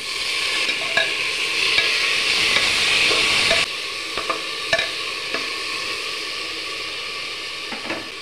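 Soaked masoor lentils hit hot oil with a loud, steady sizzle that drops suddenly, then a quieter frying crackle continues with occasional stirring clinks.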